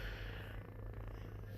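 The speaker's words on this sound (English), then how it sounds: "If you can hear her purring" Close, quiet purring from a house cat, a low continuous rhythmic rumble that stays even from start to finish with no talk.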